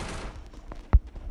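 A single loud gunshot from the Free Fire battle-royale game cracks out near the end of a short stretch of low game ambience, with fainter shots scattered around it.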